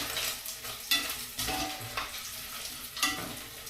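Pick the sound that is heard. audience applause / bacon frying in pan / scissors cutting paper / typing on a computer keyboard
bacon frying in pan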